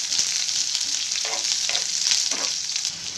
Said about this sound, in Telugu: ఆవాలు వేగినాయండి, ఎర్రగడ్డ వేసుకోండి. కొంచెం బాగా ఫ్రై చేసుకోవాలన్నమాట.